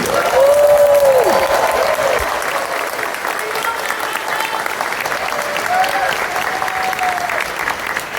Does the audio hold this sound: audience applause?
yes